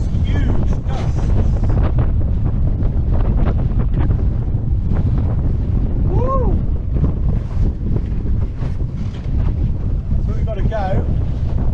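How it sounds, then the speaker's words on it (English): Strong gusts buffet a sailboat under a reefed mainsail, with continuous loud wind roar and microphone buffeting over rushing water, and faint voices in the background. "look at the gusts, it's just huge gusts"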